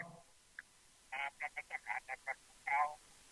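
A listener's telephone call coming through on a Thai Buddhist radio program, heard as a series of short, evenly spaced tonal beeps or dial tones, fairly faint against a quiet background.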